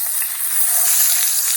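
Brook trout fillets sizzle loudly in a hot frying pan as they are flipped, a steady, close, continuous crackling hiss with no voices over it.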